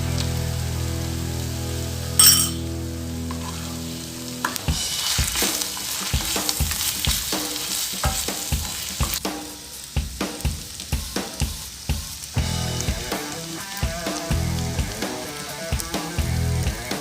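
Mutton pallipalayam frying in a pan, starting with a steady hiss then breaking into busy sizzling crackle with repeated stirring scrapes, close and fairly loud, without speech.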